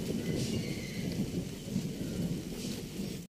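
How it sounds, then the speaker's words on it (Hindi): Light rain falls steadily outdoors on a drizzly day, a dense, even hiss with soft distant rumbling underneath, continuous and fairly faint, with no voices. "बारिश जो है रुक रुक के लग रही है"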